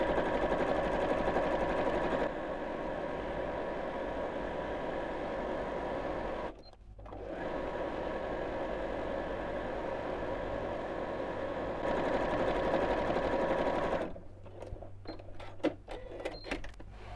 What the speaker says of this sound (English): I'm just going to sew down each side of this one now